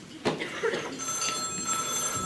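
A telephone rings indoors in a home, its bright electronic ring starting about halfway through and continuing steadily, with a brief voice-like sound earlier.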